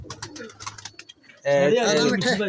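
Pigeons coo on a Lahore rooftop in a steady, close burble throughout the second half, following a stretch of scattered cooing under quiet talk and background noise.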